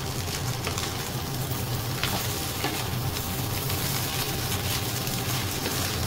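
Fried rice stir-fried in a pan in a home kitchen, giving a loud, continuous sizzle with scraping and stirring clatter throughout and no talking.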